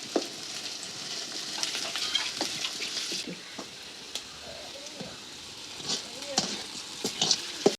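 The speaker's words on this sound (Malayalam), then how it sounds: "എണ്ണ ചൂടായി, ഇനി ഉള്ളി ഇടുകയാണ് വറുത്തിടാൻ." Onions frying in hot oil for a chicken curry, a soft steady sizzle with scattered pops and stirring clicks, close by; a voice speaks briefly under it.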